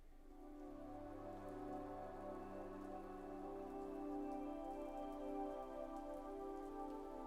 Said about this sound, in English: So let's go ahead for a bit of rain with music